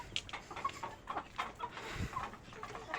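Rhode Island Red chickens bred as future breeders cluck softly nearby, a scatter of short, uneven calls and scratchy barnyard movement throughout.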